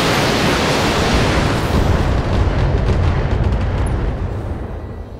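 Missile barrage explosions in the BattleTech video game, a dense, loud roar of overlapping blasts that rumbles continuously and tapers slightly toward the end, with no talking.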